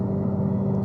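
A COBB-tuned Subaru STI cruises at about 75 mph on the highway, heard as a steady, low engine and road drone inside the cabin for under a second.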